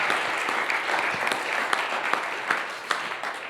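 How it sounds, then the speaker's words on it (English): An audience at a façade design event applauds steadily, a dense wash of clapping with a few sharper individual claps standing out, close and continuous throughout. "Oh, you wanted to applause. Yes, you may applause."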